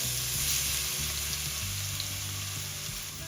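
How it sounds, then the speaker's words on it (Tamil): Crushed ginger garlic paste sautéing in oil for an instant chicken biryani, heard as a continuous bubbling sizzle close by, moderately quiet and without any speech. "நான் ஏன் முதல்ல இஞ்சி உள்ளி பேஸ்ட்டை போட்டு வதக்கிறேன்"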